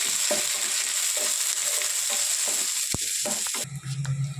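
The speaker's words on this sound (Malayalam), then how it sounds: "പച്ചമുളക്, വേപ്പില, ഉള്ളി എല്ലാം കൂടി ഇടുക. നല്ലോണം വഴറ്റും." Onions, green chilies and curry leaves sauté in a hot pan with a steady close sizzle, a few stirring scrapes and a knock near the end.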